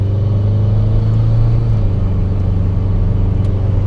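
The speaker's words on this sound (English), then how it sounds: "I'm going to show you how much throttle I need to give it in order to make boost" Subaru engine fitted with a VF39 turbo, held under partial throttle, giving a steady, loud, close engine drone that barely varies in pitch and carries no voices.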